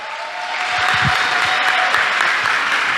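A church congregation breaks into applause, dense clapping that swells within the first second and holds steady, with a few louder claps close by.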